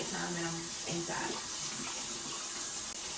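Tap water runs steadily in a sink during a face rinse, a continuous close hiss and splash that holds through the whole stretch, with a voice speaking over the start.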